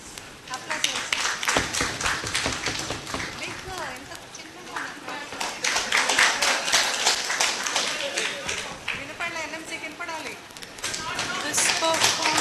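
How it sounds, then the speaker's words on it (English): Scattered applause from a workshop audience at the KMCH BCME 2024 workshop comes in uneven bursts of nearby clapping, mixed with people talking over it. "Good performance? Applause."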